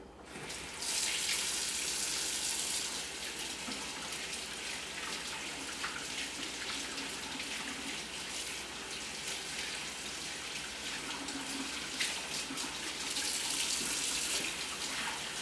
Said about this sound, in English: I'm going to wash off my hands here a second.